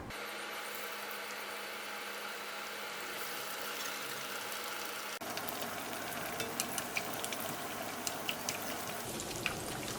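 Bread potato egg rolls fry in hot oil, a steady dense sizzle that grows busier halfway through, with small pops and crackles scattered across the second half.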